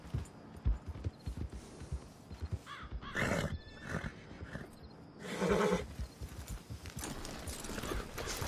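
A horse in the video game Red Dead Redemption 2 trots with clip-clop hoofbeats, then gives two loud neighs and whinnies over the steady hoof rhythm, with no talk.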